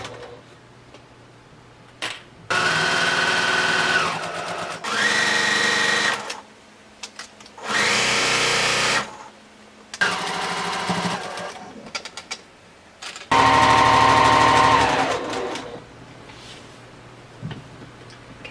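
A sewing machine stitches the seam of a fabric pencil pouch with a zipper tab, running in several loud close bursts of rapid whirring separated by pauses with small clicks and handling noise.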